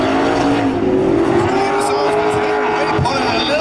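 A Chevrolet C6 Corvette race car roars hard on track, the engine note loud and sustained with tire squeal mixed in, while a commentator talks over it.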